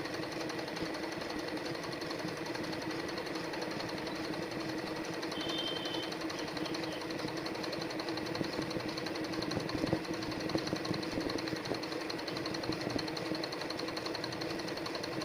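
A sewing machine stitching a lotus design in machine embroidery, its fast, steady mechanical whirr and needle patter running continuously at moderate level with no voices.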